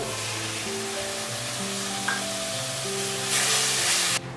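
Masala spices sizzling in a pan for a potato and brinjal curry, a steady close crackle that surges into a louder hiss as a splash of water is added near the end.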